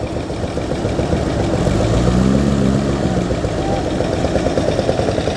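Old Velocette big single-cylinder motorcycle with a fishtail exhaust idling at a classic car show, a steady low thudding engine note, close, with other engine noise blended in around it.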